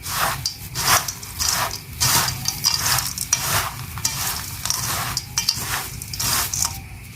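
Crushed biscuits, peanuts, coconut and dates being mixed together on a plate, giving repeated close scraping and stirring strokes in a steady rhythm, with no voices.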